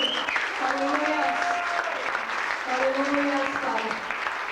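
A church congregation at a worship service applauds steadily throughout, a dense continuous clapping under a preacher's voice and singing tones.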